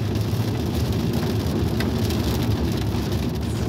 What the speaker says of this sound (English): We're going through a thunderstorm.